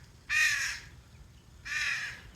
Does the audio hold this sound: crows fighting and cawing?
yes